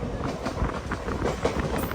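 The Madurai–Guruvayur Express rolls into Bhagavathipuram station with rhythmic clickety-clack of wheels over rail joints and steady carriage rumble, moderately loud from inside the train.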